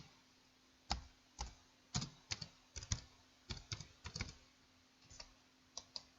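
Answers being typed on a computer keyboard: a quiet, close series of crisp key clicks in uneven bursts, with short pauses between groups of keystrokes.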